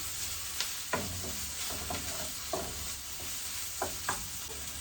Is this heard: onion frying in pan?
yes